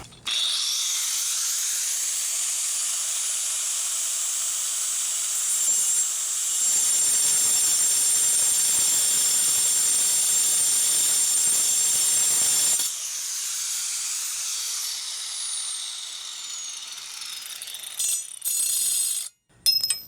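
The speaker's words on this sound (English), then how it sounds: "Let's cut that bolt and find out." A bolt is cut through with a blade in a garage during Jeep axle work, making a loud, sustained high-pitched grinding whine that runs nearly twenty seconds with a shift in tone midway and tapers at the end.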